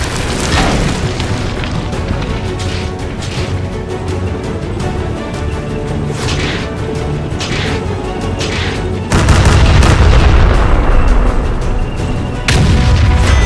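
Mortar shells explode in an animated tank battle, a heavy rumbling barrage of booms with sharp bursts layered over a continuous roar, loud and close, with a sudden louder surge of blasts near the end.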